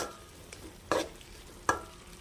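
Egg podimas cooking with masala in a pan, with a quiet low sizzle and a few sharp stirring scrapes of the spatula, two of them louder, over a soft steady fry.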